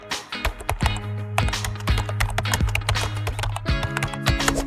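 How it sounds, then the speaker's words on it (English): Rapid typing on a computer keyboard: a dense run of sharp key clicks and taps at an uneven, quick pace, close and fairly loud, with a low steady hum beneath and no talking. "To get started, simply start typing as quickly as you can."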